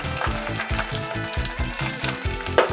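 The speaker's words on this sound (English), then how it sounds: "we're just gonna throw them right in here and give them a quick deep fry" Tortilla strips deep frying in hot vegetable oil, a loud, steady sizzle with rapid crackling bubbles and a faint rhythmic scraping or stirring underneath, with a sharper clink near the end.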